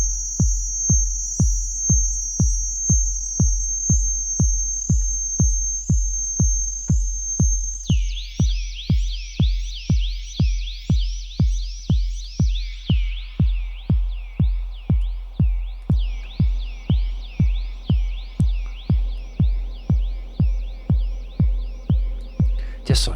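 Feedback sound design in Ableton Live builds a huge metallic space: a steady pulse of deep thumps beats on under shimmering, sweeping metallic ringing that shifts and drops in pitch as it goes.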